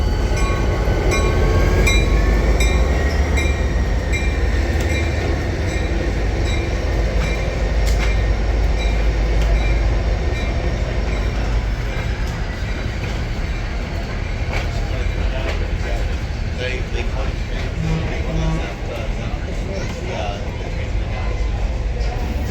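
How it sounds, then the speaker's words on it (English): Diesel locomotive 504 hauls the Nebraska Zephyr past at a railway museum diesel event, a steady loud rumble of engine and rolling wheels with clicks and a faint horn-like tone early on, continuous throughout. "Here goes 504 with the Nebraska Zephyr."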